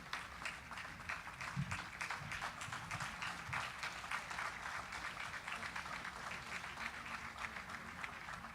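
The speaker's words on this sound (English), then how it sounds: "I expected a louder clap for the general." Steady, moderately distant applause from an audience after a goodwill message at a national event in Nigeria, sustained clapping throughout without a clear peak, fairly quiet.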